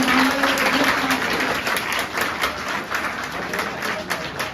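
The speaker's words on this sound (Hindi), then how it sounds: "ताली बजाइए इनके नाम पे" Classroom audience applause during a 12th-class Hindi lesson, a steady wash of clapping that runs the whole time, fairly close and loud, with no words spoken over it.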